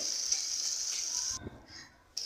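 Local fish fry in a pan for a yardlong bean and fish curry, giving a faint, steady sizzle. It dips briefly near the end, then resumes.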